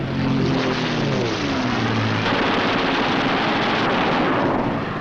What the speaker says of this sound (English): a camera and 8 machine guns are put into action